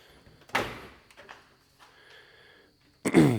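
Rear door of a 1928 Ford Model A Tudor sedan, a coach-built body with its back cut out, opening: a solid latch clunk, faint rattles and creaks, then a second heavy thump close by.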